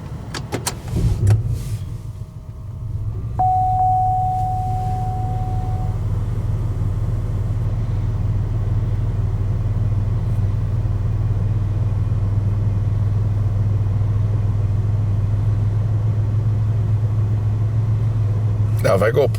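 A car starts after a brief clatter, then settles into a steady low engine rumble heard from inside the cabin, with a short electronic tone early on and a voice talking near the beginning.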